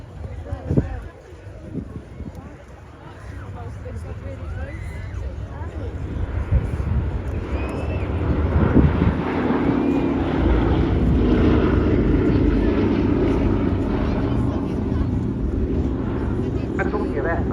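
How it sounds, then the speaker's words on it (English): The Boeing B-17 bomber Sally B flies a display at an airshow, its piston engines droning and swelling to a sustained loud roar as it passes, while an announcer talks over it. "And this, above all, is the aircraft that salutes the men who made that effort possible."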